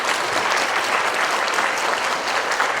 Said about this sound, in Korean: 여러분 격려의 박수 부탁드립니다